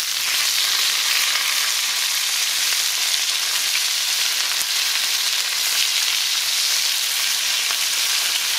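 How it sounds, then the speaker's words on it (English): Flipped slices of pork belly fry in a pan over medium heat, a dense, continuous, even sizzle that is close and loud throughout, with no voices. "Once you flip your pork belly, you're going to let it cook for 4 more minutes on a medium heat."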